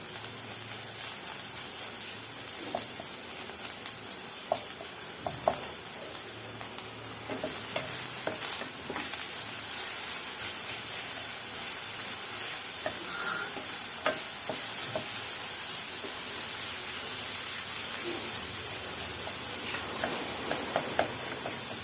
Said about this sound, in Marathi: गूळ वितळूपर्यंतच आपल्याला परतून घ्यायचं आहे